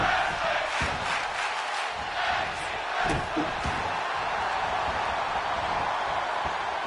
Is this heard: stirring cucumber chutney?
no